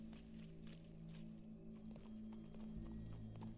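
Horse hooves in the Red Dead Redemption 2 video game, rapid clip-clop footfalls under a low background hum, moderately loud and continuous.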